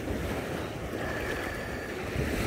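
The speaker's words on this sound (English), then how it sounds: "Again, big waves that are coming in." Big ocean waves roll in during a building storm along the Costa Rican coast, a continuous loud rush of surf with wind buffeting the microphone and no voices.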